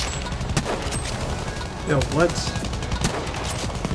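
Gunfire in the World War II shooter Battlefield 5: rapid automatic bursts and sharp single shots crackle close under excited talk, with an engine-like sweep briefly rising in the middle.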